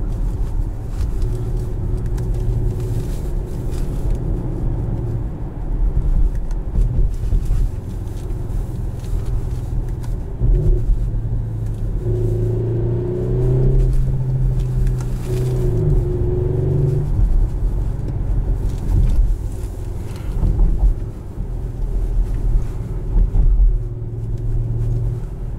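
Engine of a 2018 Audi SQ5 driven in paddle-shift mode, a steady low rumble with road and cabin noise that swells in a few revving pushes through the middle, heard from inside with no talking.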